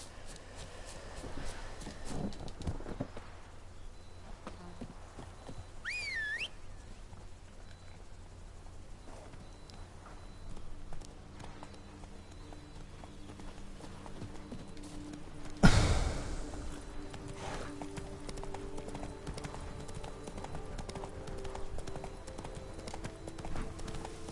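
Horse hooves clip-clopping at a steady walk in The Witcher 3: Blood and Wine, a soft, continuous patter under faint game ambience, with one louder thump partway through.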